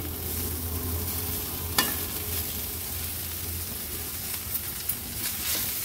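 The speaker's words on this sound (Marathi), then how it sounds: "आता मी ह्या फोडणीमध्ये 1-2 मिनिटांसाठी फक्त परतून घेते" Amla pieces stirred in hot tempering oil with spices for pickle, a steady sizzle with scraping stirs and a sharp clink partway through, close and continuous.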